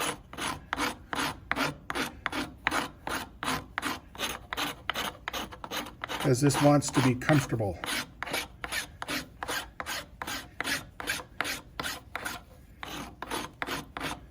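Sandpaper is rubbed by hand over the wooden body of a pull-string top in steady rhythmic strokes, about two per second, close and clear, with a brief spoken remark in the middle.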